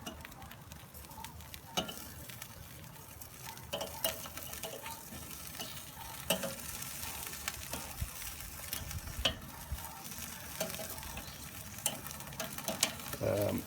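Chicken wings sizzle steadily on a domed barbecue grill over indirect heat, with scattered clicks and scrapes of being turned over, a continuous close crackle with no talk.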